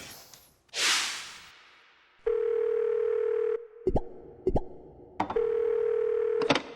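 A telephone dial tone opens a call to Daenam Hospital in Cheongdo, South Korea. After a brief whoosh, a steady tone plays in two long stretches, broken by several sharp clicks.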